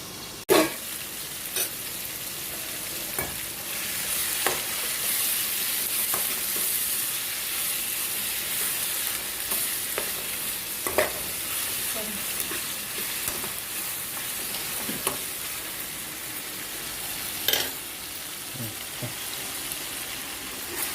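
Green chillies and curry leaves sizzle and fry steadily in a pan, with a continuous crackling hiss broken by occasional sharp pops and stirring clicks, close and alone without talk.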